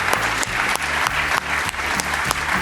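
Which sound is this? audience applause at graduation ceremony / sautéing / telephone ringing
audience applause at graduation ceremony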